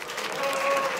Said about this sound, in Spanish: Gracias, amigos, por ese espontáneo aplauso